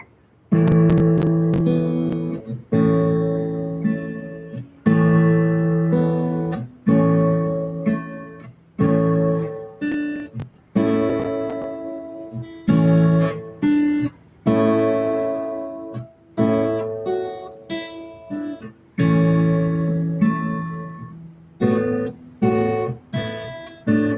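Plucked acoustic guitar picked in a fingerstyle claw pattern, with bass notes and chords ringing in a steady rhythm, close and clear with no talking.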